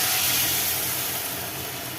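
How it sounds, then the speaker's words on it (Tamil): A batter of besan whisked in milk hits hot ghee in a pan with a loud, steady sizzling hiss that fills the whole moment close up, slowly easing slightly. "இப்போ அதே நெய்யிலே நம்ம கடலை மாவு பாலில் கரைச்சி வச்சுருக்கோம், அதை ஊற்றிக்கலாம்"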